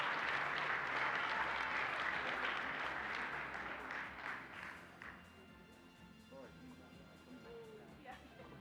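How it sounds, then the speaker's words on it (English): Audience applause at an awards luncheon, a full round of many hands clapping in a large room that holds strong for several seconds, then tapers into scattered claps and murmured voices. "Let's give a big round of applause for this year's President Award recipients."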